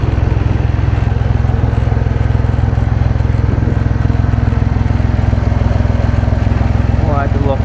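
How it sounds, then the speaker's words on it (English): A healthy-sounding car engine on a Copart lemon project car runs steadily and loudly close by, with an oil or exhaust leak noted, its continuous drone holding throughout with no breaks. "The motor sounds healthy"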